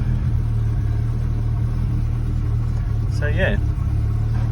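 A Rover P4 car engine idles on choke with a steady, low mechanical rumble that runs continuously close by, while someone speaks briefly over it.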